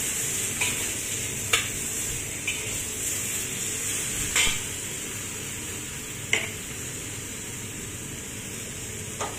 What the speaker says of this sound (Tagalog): i-fry lang natin yan. Hanggang sa maluto yung yung tomato.